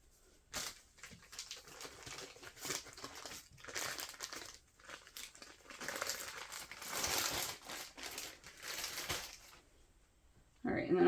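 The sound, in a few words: trimming nylon webbing for a dog leash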